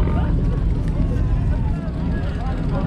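Steady low rumbling engine drone with rushing wind and water, continuous and loud throughout, like a motorboat underway.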